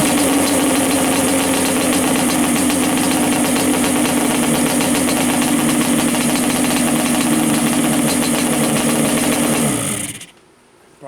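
A Yamaha Banshee engine runs at idle, a loud, close, buzzing two-stroke rattle with a steady pulsing rhythm that holds for about ten seconds before cutting off abruptly into silence.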